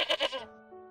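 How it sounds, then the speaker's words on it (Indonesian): A single close goat bleat, shaky and nasal, breaking into a few wavering pulses before trailing off, with a faint steady hum underneath. "Ini kambing."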